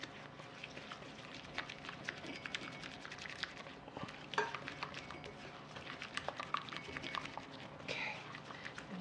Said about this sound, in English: I'm going to whisk this up till it's well blended.